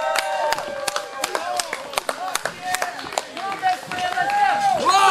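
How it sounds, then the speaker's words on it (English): Clapping and scattered shouts come from the crowd at a small independent pro wrestling event, sharp irregular claps and cheers rising over the course of the moment while a voice in the ring talks over them. "We ain't locking up till y'all start clapping."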